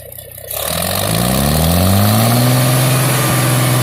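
An old Farmall C263 IH 706 tractor engine roars up from a low idle into a rising rev, pitch climbing steadily and holding loud near the end.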